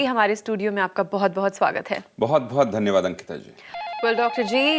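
A telephone rings in a TV studio, a repeating electronic warble that enters near the end under a studio talk-show exchange between a host and a guest.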